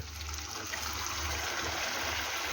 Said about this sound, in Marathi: आता आपण यामध्ये गरम केलेले पाणी ओतून घेऊया